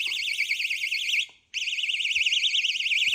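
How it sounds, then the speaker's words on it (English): A water leakage alarm, triggered by water, sounds a shrill, loud electronic warble, cuts out briefly for a moment, then resumes just as loud and steady. "Let's see if the alarm goes off."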